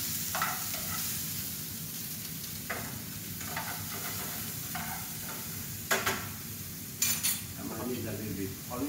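Chopped onion and pepper sauteing in a little olive oil in a pan, a steady soft sizzle close by with occasional clinks and scrapes of a utensil stirring.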